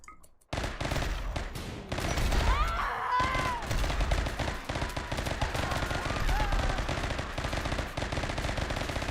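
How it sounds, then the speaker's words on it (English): Rapid automatic gunfire from defensive turrets in the space-colony game Rimworld, a dense, continuous rattle of shots with laser-like tonal zips, loud throughout after a brief quiet start. "Oh, you firing at the turrets."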